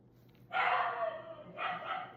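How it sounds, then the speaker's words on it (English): A dog gives two barks about a second apart, each one sustained and moderately distant, against a quiet background. "Uh-oh, that dog is barking."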